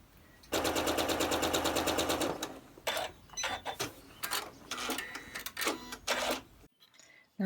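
A sewing machine stitches quilt fabric pieces together, a loud rapid needle rattle for about two seconds followed by short uneven bursts of stitching and handling noises, close and clear.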